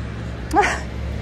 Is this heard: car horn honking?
no